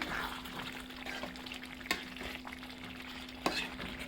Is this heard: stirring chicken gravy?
yes